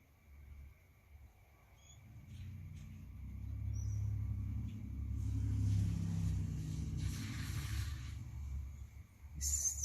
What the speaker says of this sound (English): Sorry if you can hear traffic.